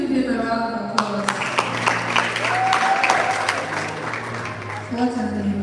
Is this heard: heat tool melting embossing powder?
no